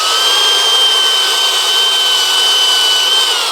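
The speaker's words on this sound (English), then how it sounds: "then we just run the drill on medium to high speed." An electric drill whines steadily at medium to high speed while working inside a tub, a constant, loud, close-up motor tone with no pauses or talking.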